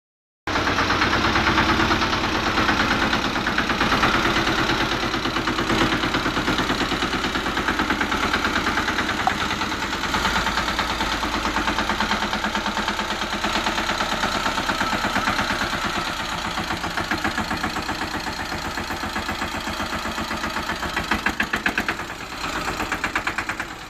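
A tractor engine runs on a farm before harrowing a field, a loud, close, continuous idle-like rumble with a fine knocking vibration that holds steady throughout.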